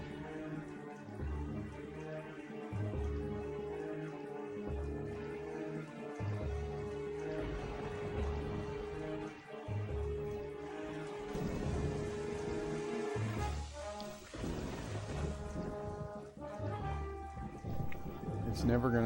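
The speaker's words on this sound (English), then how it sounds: "It's never gonna stop raining." Steady rain falls in the video game Zelda Wind Waker, a constant hiss layered with a rhythmic low game soundtrack and occasional rumbles.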